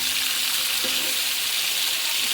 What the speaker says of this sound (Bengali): সম্পূর্ণ মাছ আমি একসাথে দিয়ে নিয়েছি, এখন আমি হালকা একটু ভাজে নেব।